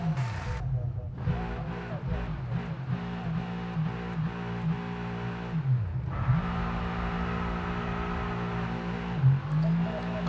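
An F1 race car engine in the F1 22 game, a loud steady high-pitched whine that rises and falls with revs and dips sharply around gear changes, continuous throughout with faint tire noise.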